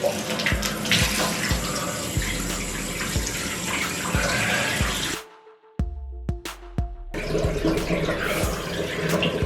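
Ice-cold shower water pours over a head in a bathroom, a loud steady splashing spray that cuts out briefly in the middle and then resumes, with no talking.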